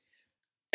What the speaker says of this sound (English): Excuse me if I just cough a bit because of my throat